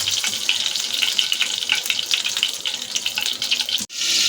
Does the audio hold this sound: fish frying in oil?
yes